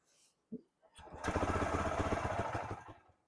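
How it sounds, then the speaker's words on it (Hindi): A Bajaj Freedom motorcycle running on CNG fires up after a couple of brief knocks and settles into a steady, close, buzzing single-cylinder idle that holds for about two seconds before fading out. "ये देखो सीएनजी पे चल रही है और ढंग से।"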